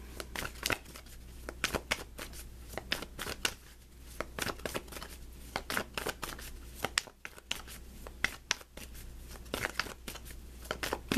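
Tarot cards are shuffled in repeated crisp riffles and soft slaps, close and fairly quiet, coming in irregular bursts with short pauses between.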